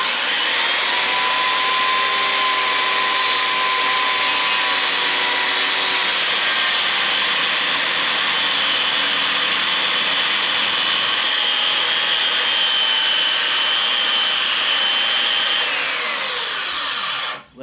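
A circular saw makes a plunge cut into wood, a loud steady high whine held throughout, its pitch sagging slightly under load before the blade spins down and stops at the very end.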